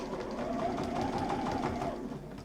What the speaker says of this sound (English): It does go fast on my machine when it goes back